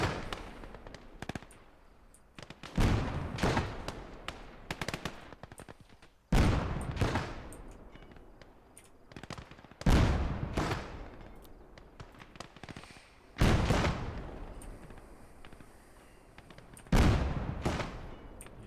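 Gunfire and explosions in Call To Arms: Gates Of Hell, a World War II battle, come as loud bursts roughly every three to four seconds, each a sharp blast with a rumbling decay, over a steady background of distant battle noise.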